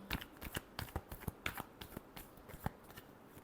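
Tarot cards are shuffled by hand in a quick run of crisp, papery riffles and slaps, close and fairly soft, with no voice over them.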